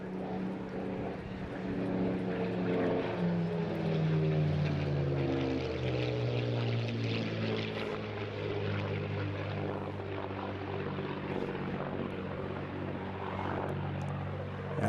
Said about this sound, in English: Coming in now from the right-hand side, please welcome this marvellous Mark 11 NHS Spitfire.